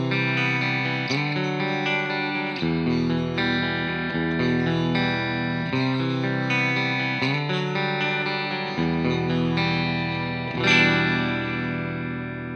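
A clean electric guitar arpeggio played through an AmpliTube amp simulator rings out with sustained, overlapping picked notes and a slightly effected, chorus-like shimmer, alone and up front.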